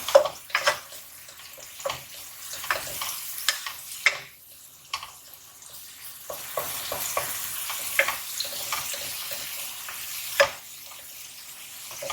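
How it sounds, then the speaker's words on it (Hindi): Garlic ginger paste sizzles in hot oil over a low to medium flame, a soft continuous frying hiss broken by repeated scraping and stirring taps, close and without talk. "उसके बाद हम डालेंगे लहसुन अदरक का पेस्ट और सॉटे करेंगे"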